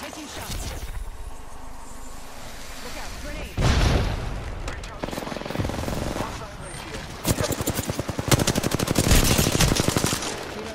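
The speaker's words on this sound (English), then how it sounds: "look out, grenade!" A grenade explodes in the Apex Legends battle royale game, a loud blast followed by rapid gunfire bursts and booming impacts, with a voice talking over the chaos.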